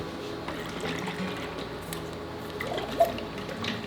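Water from a tap pours and trickles into a fermentation jar of salt brine for sauerkraut and vegetables, a steady close liquid gurgle with faint sloshing and a brief splash near the end.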